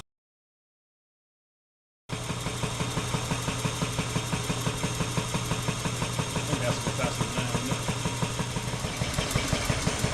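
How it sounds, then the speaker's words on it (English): A roughly 60-year-old 1960s air compressor whose motor threw sparks when it engaged starts after two seconds of silence, then runs with a steady, loud, close mechanical drone and fast rhythmic chugging pulses. "the air compressor is actually from the 1960s, so it is somewhere around 60 years old"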